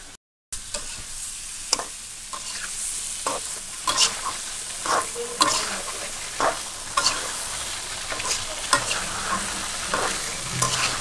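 Green bananas frying with spices in a pan in a village kitchen, a steady sizzle broken by repeated scraping stirs of a spatula, close up, with no talking.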